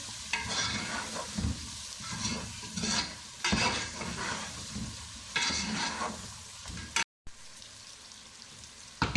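Cumin seeds and black pepper sizzle in hot oil while being stirred, with repeated scraping strokes of the spoon over a constant crackle, close and moderately loud, with one brief silent gap near the end.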